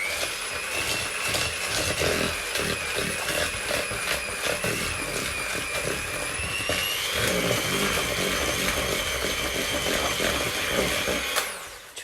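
Steady whirring of an electric hand mixer beating butter and sugar for Viennese biscuits at close range, a loud motor drone with a faint rise in pitch partway through.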